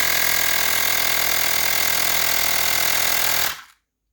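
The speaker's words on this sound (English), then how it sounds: "then you just press the middle button and start inflating" A Xiaomi Portable Electric Air Pump 1S inflating a tire runs with a loud, steady buzzing drone that holds constant, then abruptly cuts off and leaves silence.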